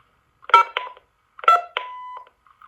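Two quick bursts of electronic tones and beeps from an early digital answering machine, new in box, the second ending in a short steady tone, followed by faint clicks.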